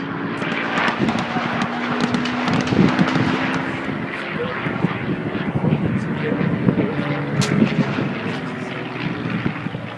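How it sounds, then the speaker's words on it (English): A Spitfire fighter plane sweeps past during a Normandy battle scene, its propeller engine roaring and droning under continuous talk, with rumbling blasts in the background. "And our Spitfire once again."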